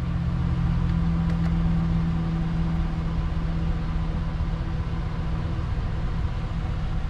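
A 4x4 cat-eye Chevrolet Silverado pickup truck engine idles steadily after starting, a low continuous hum with a constant drone, close by and unbroken, with no talk.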